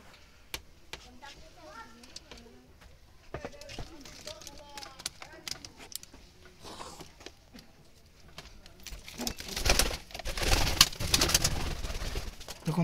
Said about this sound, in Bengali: দেখুন দর্শক, একটা খয়েরি জালালি কবুতর।